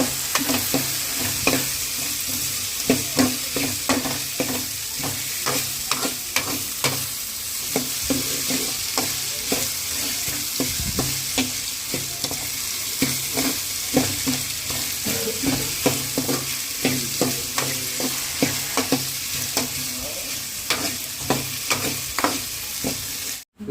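Chopped vegetables are stir-fried and mixed in a pan: a constant close sizzle under repeated rhythmic scraping stir strokes that continue throughout.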